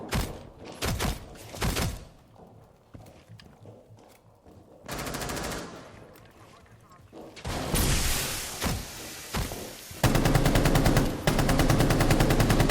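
Gunfire in Rainbow Six Siege, loud bursts of automatic fire and single shots scattered through the clip, building to sustained rapid machine-gun fire toward the end, with thuds and mechanical clatter between.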